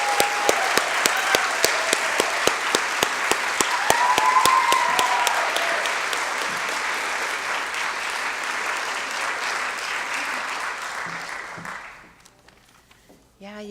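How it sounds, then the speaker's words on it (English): An audience at a panel discussion event gives sustained applause, a dense wash of clapping with a few sharp individual claps near the start, holding steady before fading out near the end, followed by a voice. "And please, a big round of applause for Jennifer Jasper."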